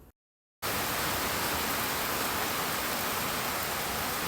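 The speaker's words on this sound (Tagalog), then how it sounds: "Malakas pa rin ang ulan, no?" Heavy rain pours steadily outdoors as a dense, continuous hiss, loud and close, starting abruptly after a brief silent gap and running unbroken with no voices.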